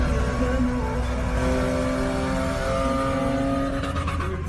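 A Nissan Patrol Y61 with the TB48 petrol engine revs, a loud, sustained engine roar holding steady for a few seconds with no talk over it.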